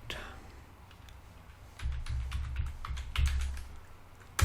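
Soft, deliberately light typing on a worn computer keyboard, a run of close clicks picking up midway in irregular bursts, quiet overall with faint breathy voice sounds nearby.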